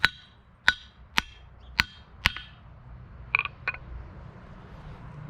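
Five evenly spaced hammer strikes on a Colombian anvil mounted on a mat, with a dull, muted ring that dies quickly, then two brief clusters of lighter taps.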